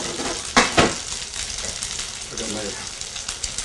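Food sizzles and fries in a non-stick pan over steady hissing, with a couple of sharp clatters from a spatula or pan being handled early on.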